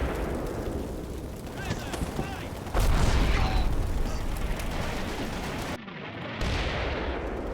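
Artillery shells landing in the Combat Mission Final Blitzkrieg wargame, a dense rumbling barrage with a heavy boom near three seconds and another burst near six, loud and continuous with no talk.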